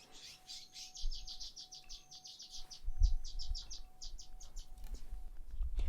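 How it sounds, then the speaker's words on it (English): Birds chirp in fast, repeated bursts of high tweets, fairly close, over a faint steady hum and some low background thumps. "Got some loud birds today."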